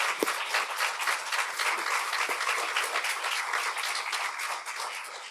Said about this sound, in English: So if you wouldn't mind joining with a round of applause.